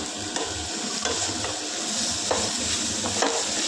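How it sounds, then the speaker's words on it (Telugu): Tomatoes frying and sizzling in a pan, a steady hiss with repeated scraping and stirring strokes at close range, no voices. "ఇవన్నీ పక్కకు దుబ్బేసి టమాటో కూడా వేయించేసుకొని"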